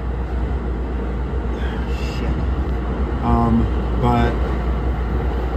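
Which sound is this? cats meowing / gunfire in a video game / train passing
train passing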